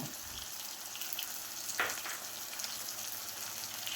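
Curry leaves, two sprigs, hit hot oil over softened onions in a Kerala-style curry pan, giving a steady close sizzle with a brighter crackling burst midway, with no talking.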